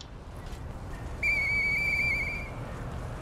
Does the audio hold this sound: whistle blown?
yes